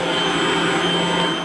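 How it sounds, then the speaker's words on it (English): An insectizooka, a handheld vacuum used to suck up engorged mosquitoes at a lamb feedlot near Ulm, drones with a steady, even motor whine close to the microphone, unbroken for the whole moment and without talk. "They're also using what's called the insectizooka to vacuum up and collect engorged mosquitoes."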